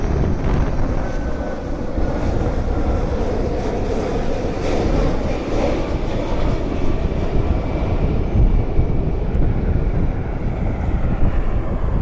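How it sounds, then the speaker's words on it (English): A FedEx Boeing 767 heavy jet inbound to Cleveland Hopkins gives a steady, broad roar that persists throughout with no break, mixed with wind buffeting on the microphone. "FedEx 356 Heavy inbound from Memphis. It's our 767."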